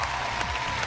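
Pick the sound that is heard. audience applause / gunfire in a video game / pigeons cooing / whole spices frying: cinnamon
audience applause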